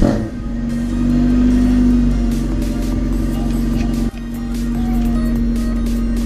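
A car engine runs close by with a steady hum, rising in pitch as it revs and briefly dipping before revving again, loud and with no one speaking.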